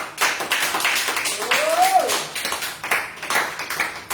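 Church worshippers clap to acclaim the Lord, a steady wash of close clapping that continues throughout, with a brief sung or spoken voice gliding over it.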